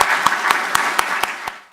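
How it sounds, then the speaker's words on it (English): Audience applause for a discussion panel at the close of a conference session, a steady wash of clapping with a few sharp claps standing out in an even rhythm, fading away at the end. "So if we can give a round of applause to our panelists,"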